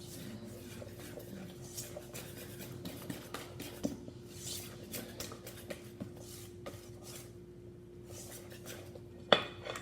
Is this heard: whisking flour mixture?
yes